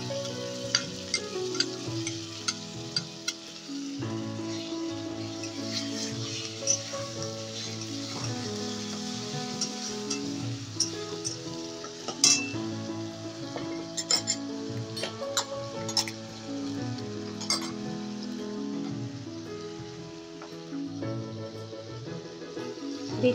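Ginger, garlic and two finely chopped medium tomatoes fry in a pan for chicken bhuna masala, with a soft, continuous sizzle and occasional stirring under background music.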